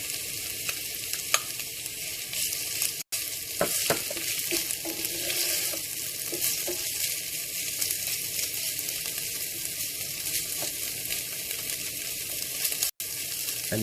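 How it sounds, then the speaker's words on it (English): Chopped onions fry in hot oil with ginger and garlic, a steady, dense sizzle and crackle holding close and even throughout, with occasional stirring clicks and no voices. "we're going to let this to fry for a few minutes until golden brown"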